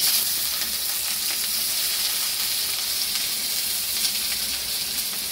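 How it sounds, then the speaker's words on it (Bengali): Three portions of chopped onion fry in hot oil for mutton kosha, a dense, even, hissing sizzle that stays loud and close throughout with little stirring and no voices. "3টে পেঁয়াজ কুচি করে নিয়েছি, এর মধ্যে এবার দিয়ে দেবো তেলের মধ্যে"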